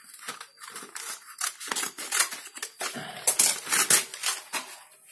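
Scissors snipping through a fouled reverse osmosis membrane sheet, a quick run of close, crisp cuts and crinkles with no voices.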